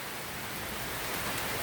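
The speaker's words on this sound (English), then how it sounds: "everybody can tell it's raining" Rain pouring down outdoors, a dense, even wash of hiss that slightly builds in loudness over its short length.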